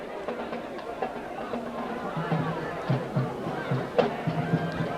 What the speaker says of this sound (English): Crowd getting quiet as this game is pretty much in the books already.